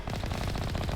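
Missiles fire in the Mass Effect video game as a steady rapid rattling barrage, loud and continuous for a brief moment, with no voices.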